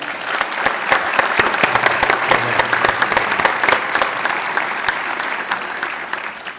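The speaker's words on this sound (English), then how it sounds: "Can we give our panelists another round of applause?" An audience at a business-of-sports panel discussion claps steadily for the panelists, a dense, sustained round of applause from a crowd in a hall that holds strong throughout and tapers slightly at the end.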